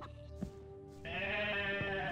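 Sheep or goat bleating in the online role-playing game Eskalon Online, a drawn-out, strongly voiced bleat rising to a louder sustained call, heard close and clear with no talk over it.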